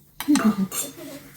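A spoon stirring a sesame laddu mixture in a pot, a few close clinks and scrapes of metal in quick succession, then quieter scraping.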